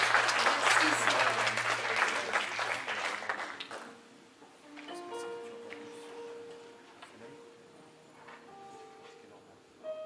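An audience applauds a surgeon at a church gathering in Lausanne, with a dense burst of clapping for about four seconds that then fades into scattered claps and quiet room noise.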